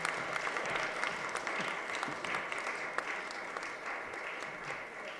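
A live audience applauds steadily at a lecture-style gathering, a dense wash of many hands clapping with a few sharper individual claps standing out, sustained evenly throughout.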